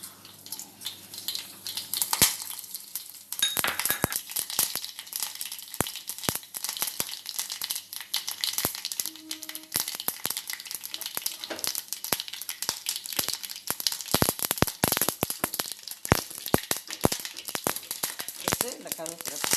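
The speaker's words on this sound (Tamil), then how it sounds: "எண்ணெய் காஞ்சிருச்சு. கடுகு உளுந்தம்பருப்பு போடுவோம்." Mustard seeds and urad dal crackling in hot oil for a banana flower kootu, a dense fizzing, popping crackle that starts after a few quiet seconds and keeps spitting continuously, with talking over parts of it.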